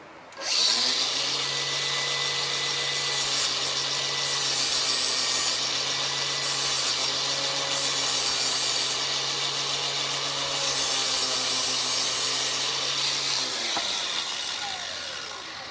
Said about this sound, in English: going to grind it just a little bit more.